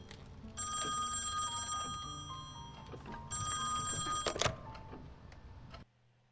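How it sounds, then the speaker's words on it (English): An old bell telephone in the game Song of Horror rings twice in long metallic trills with a pause between, loud and near, then a handset clicks and everything falls nearly silent. "let's go ahead and answer the phone"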